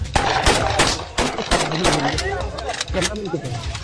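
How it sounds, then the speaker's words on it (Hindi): Police gunfire during a shootout with dacoits in Kasur: rapid, loud bursts of shots overlap one another in dense, close clusters, with voices shouting underneath. "पुलिस के जवान फायरिंग कर रहे हैं और उस साइड से भी फायरिंग शुरू हो गई"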